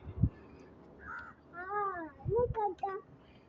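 A crow gives a few harsh, nasal caws close by in a quiet home setting, with a short thump and faint voices around the calls.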